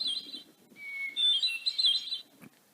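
A chipping sparrow sings alone, close and clear: high thin whistled phrases and trills in a short continuous run, ending with a brief click.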